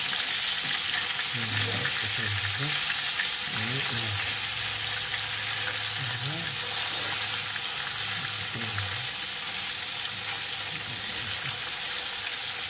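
Meat sizzles steadily in a hot pan with turmeric and salt, a loud continuous frying hiss broken by periodic scraping stirs, close and without talk.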